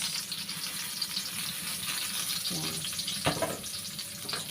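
Onion fries in a pan with garlic, a steady close sizzle with occasional scraping and stirring knocks, and no talk over it.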